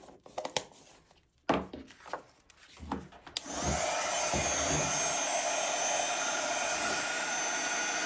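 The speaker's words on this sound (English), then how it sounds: "moving the heat tool over the image" An embossing heat tool blows a steady, loud whooshing roar over embossing powder on a stamped botanical butterfly image, following a few soft handling clicks and knocks, then running continuously.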